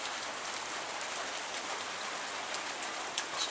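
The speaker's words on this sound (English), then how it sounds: "This is a normal rain for us up here in the northwest right now" Constant rainfall in the northwest hisses evenly, with occasional sharper drips standing out above the continuous wash of falling water.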